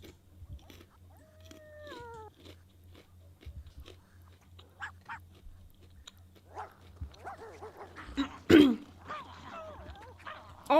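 A dog in the video game The Sims 2 barks and yelps in short scattered bursts, alongside whining animal calls and soft game sounds, with one loud sharp bark near the end.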